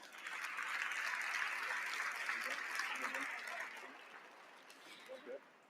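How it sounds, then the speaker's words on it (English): Applause from a conference audience for a panel at an event, soft and somewhat distant, swelling then tapering off over a few seconds. "I'd like you all to extend a hand of applause to our fantastic panel here."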